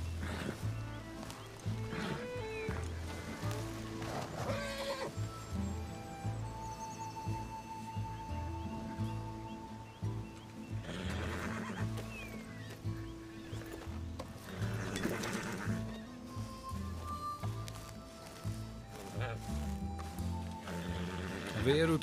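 A horse in Red Dead Redemption 2 neighs and its hooves clip-clop amid game ambience, with the animal sounds recurring over a steady low hum and faint background music.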